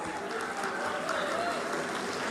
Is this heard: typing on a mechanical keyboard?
no